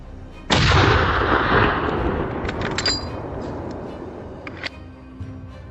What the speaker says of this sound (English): The gunshot seemed to alarm the boars.